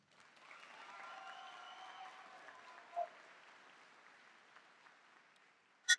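Applause and cheering from a crowd at a high school graduation ceremony, a steady broad wash of clapping that swells then slowly fades over several seconds, heard from a distance in a large space.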